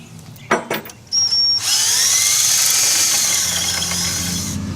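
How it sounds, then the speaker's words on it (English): A power drill boring an extra hole in an outboard motor bracket while fitting a TurboSwing to a 300hp Evinrude E-Tec G2: a few short clicks and bursts, then a loud, steady, close whine held for several seconds. "At this point we have to drill an extra hole to stabilize the bracket."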